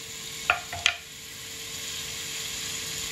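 Mussels with lemongrass stirred in a hot pan, two quick clinks of a utensil early on, then a soft, steady sizzle continuing alone.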